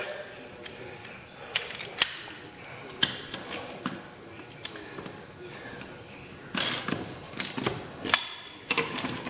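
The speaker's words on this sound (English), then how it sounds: "Grab my ratchet. And I'm just going to snug this down a bit." A ratchet snugging down a bolt on a 1928 Dodge rat rod gives quick clicking bursts and metallic taps, close by, scattered across several seconds with some handling noise between them.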